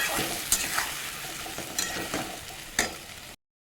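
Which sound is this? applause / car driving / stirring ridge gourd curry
stirring ridge gourd curry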